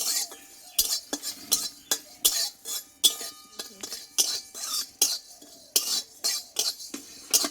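A spatula scrapes and clinks against a pan as panch phoron spices are lightly dry-fried, giving repeated short bursts of metallic stirring with quiet gaps between them.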